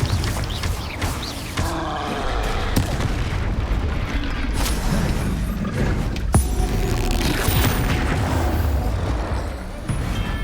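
A Confringo spell explosion in Hogwarts Legacy, a loud boom amid continuous battle noise, with a sharp blast standing out near the middle over rumbling game effects.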